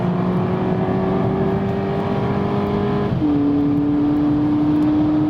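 A VW Polo GTI accelerates hard with a loud, steady engine drone that climbs in pitch, then a gear change about three seconds in brings a drop and another rising pull, heard from inside the car with no talk.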